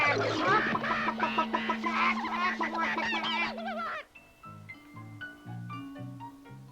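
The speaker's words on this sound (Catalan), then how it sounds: "Es lamentava la gallina." A hen clucks in a cartoon farmyard, a run of close, loud, rapid clucks and squawks for about four seconds, then gives way to soft plucked music.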